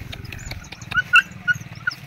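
A dog in a rural Palawan yard whimpers in several thin, high whines and short yips, scattered irregularly over a low rumbling background noise.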